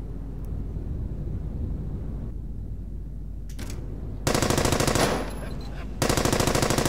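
Sustained machine gun fire in the World War II shooter Brothers in Arms: Hell's Highway, with loud rapid bursts cutting in over a steady rumbling battlefield background.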